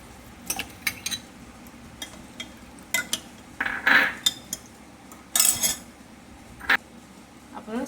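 Spoon clinks against a glass or bowl as cooked sago pearls are added to rose milk, a series of short, close, sharp taps spread irregularly with brief pauses between, no voices.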